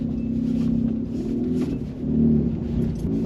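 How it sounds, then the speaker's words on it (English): A Mazda RX-8 (SE3P) rolling slowly over a speed bump in a car park, a low continuous rotary engine drone and road rumble with a soft thump and swell as the wheels cross. "Speed bump"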